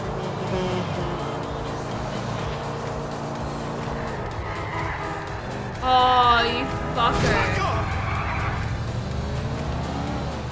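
A car engine droning and revving in Grand Theft Auto 4 gameplay during a chase, with tires squealing and skidding midway and a sliding tonal whine, while voices talk over the driving.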